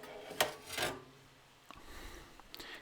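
A Seagate hard drive is slid out of the 5.25-inch drive bay of an old 486 DX2 PC. Two short scraping rasps sound close together, followed by fainter bumps and handling noise.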